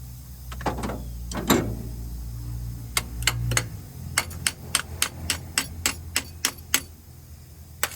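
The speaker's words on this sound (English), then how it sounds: "Just hammer on the other side." Hammer blows strike a part on an old Ford F350 pickup that sat abandoned for 22 years, landing as a sharp metallic series of about a dozen fairly evenly paced hits after a few scattered knocks and a low rumble at the start.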